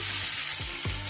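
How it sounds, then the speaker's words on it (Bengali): Vegetables with turmeric, Kashmiri chili powder and salt being stirred in a hot frying pan, a close sizzle broken by two quick scraping strokes of the spatula. "সবকিছু এবার সবজির সাথে ভালো করে মিশিয়ে নেব।"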